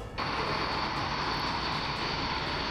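Loud, steady roar of Mirage 2000 fighter jets during an air force firepower exercise at Pokhran, Rajasthan, starting abruptly and holding a dense, continuous rush with no voices.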